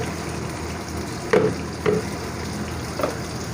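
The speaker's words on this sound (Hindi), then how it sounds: "अब हम इसके अंदर भिंडियाँ डाल देंगे जो हमने काटी थी।" Chopped okra (bhindi) frying in oil in a pan, a steady low sizzle broken by a few short scraping clatters, with no one talking.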